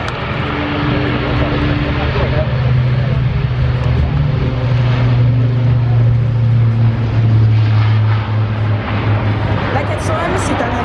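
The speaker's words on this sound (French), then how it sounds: "C'est un avion tactique à grand rayon d'action qui poursuit sa montée en puissance" An A400M military transport aircraft flies over the Paris Air Show at Le Bourget, its steady propeller-engine drone loud and continuous throughout, with a public-address announcer talking over it.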